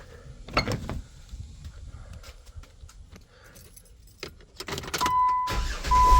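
A 2007 Jeep Wrangler is started after an oil pressure switch replacement: rustling and clicks, a cranking burst, then the engine catches and settles into a steady idle hum that grows louder toward the end.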